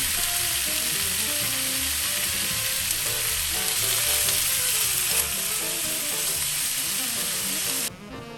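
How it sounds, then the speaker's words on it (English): Meat sizzling loudly in a hot, oiled pan, a dense continuous crackle with no talk, dropping off abruptly near the end. "I just threw a little bit more oil into my hot pan. And then threw my meat in."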